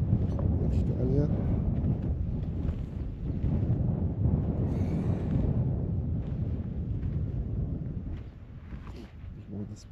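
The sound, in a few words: wind blowing outdoors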